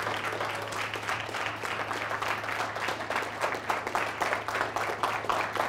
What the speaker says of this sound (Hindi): क्यों ना ताली बजाकर प्रभु का धन्यवाद करें।